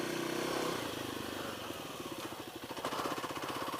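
A Kawasaki KLX300 dirt bike ridden off road on sandy ground in low gear, its single-cylinder engine chugging in a rapid pulsing rhythm that rises slightly in pitch near the end, heard from the rider's position, no talking.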